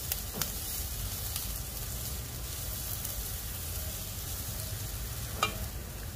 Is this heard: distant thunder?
no